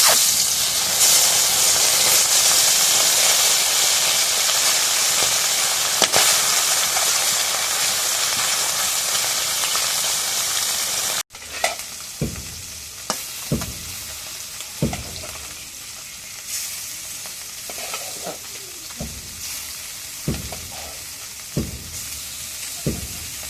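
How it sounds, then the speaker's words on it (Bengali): Small puti fish sizzle in hot oil in a home kitchen, first as a loud, steady hissing fry, then after an abrupt cut as a quieter simmer broken by sharp crackles and pops at irregular intervals. No one speaks. "তেল গরম হয়ে গেছে এখন মাছগুলো দিয়ে দিই"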